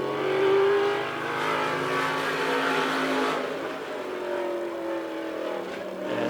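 Race cars at Lebanon I-44 Speedway pull away on the green flag, a blended engine roar that swells early and then fades steadily as the pack moves off into the distance.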